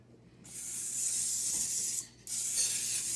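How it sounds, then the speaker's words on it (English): Cooking spray hisses into a 9x13 baking pan in two bursts, a longer spray followed by a brief pause and a second shorter one, close and fairly steady with no talking. "I am going to spray a little spray in my 9x13 pan here."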